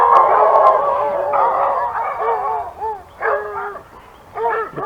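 A large pack of around 30 to 40 dogs, led by two men, barking and yelping continuously in overlapping bursts close by, with whimpers and yips mixed in and brief lulls between louder outbursts.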